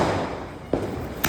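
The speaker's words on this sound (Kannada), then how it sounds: "ನಾನೇ ಪಟಾಕಿ ಹಚ್ತಿದ್ದೀನಿ, ನಾನೇ ವಿಡಿಯೋ ಮಾಡ್ತಿದ್ದೀನಿ" Deepavali firecrackers burst outdoors with two sharp, short pops over a continuous noisy background of other celebration bangs and hiss.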